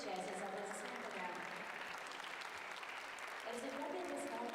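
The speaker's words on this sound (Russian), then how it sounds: "Казань поддержит всех участниц аплодисментами" An arena crowd applauds gymnasts at the Russian Artistic Gymnastics Championships in Kazan, sustained distant clapping under a faint announcer's voice over the PA.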